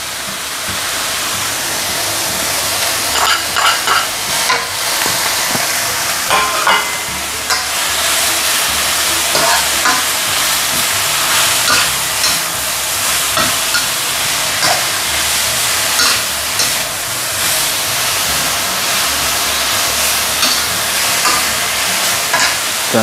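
Garlic chives stir-fry over high heat with baking soda, sugar, salt and pepper, giving a loud, continuous sizzle and hiss broken by the scrape and clatter of stirring, close by with no talk.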